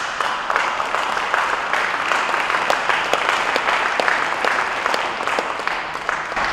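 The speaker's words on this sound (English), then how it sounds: "you go ahead, you can clap" A conference audience claps steadily for several seconds, a thick, even wash of hand claps with no voices over it.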